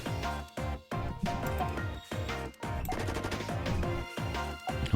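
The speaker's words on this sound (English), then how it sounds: "Gunshots and explosions." Gunfire and explosions in a hospital video game: rapid bursts of shots and crashing blasts arriving in choppy clusters with brief gaps, loud and busy, with no talking.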